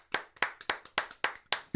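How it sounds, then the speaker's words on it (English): Seven crisp hand claps from a single person land in a steady rhythm, close and clear, each sharp smack followed by a quick decay. "Yeah, I'm definitely clapping for that."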